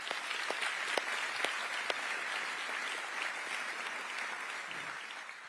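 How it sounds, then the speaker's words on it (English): A crowd applauds steadily at an economic summit, even clapping with a few sharper claps near the start, heard from a moderate distance and slowly fading. "Please give them a round of applause."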